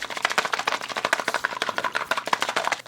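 A potion flask holding a Minecraft lava egg mixture is shaken hard, making a rapid, even run of close sloshing rattles that holds steady throughout.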